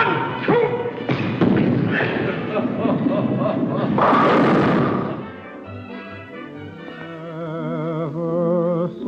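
A bowling ball rolls and crashes into pins in a 1940 film scene: a rumbling roll builds into a loud clattering impact, followed by music.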